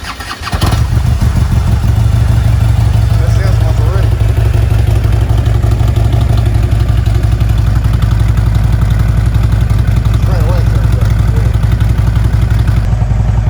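A Harley-Davidson Ultra Classic with a stage 2 engine upgrade cranks and fires up within the first second, then settles into a loud, close, continuous lumpy idle that carries on to the end.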